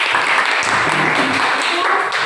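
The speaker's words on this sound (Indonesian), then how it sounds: "tepuk tangan untuk Fefen" A classroom applauds a student during a lesson on job application letters, a steady wash of clapping from many hands lasting the whole stretch, with faint voices mixed beneath it.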